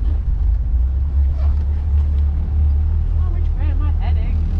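A boat engine running at steady revs while under way, a loud low drone close by, with people talking over it.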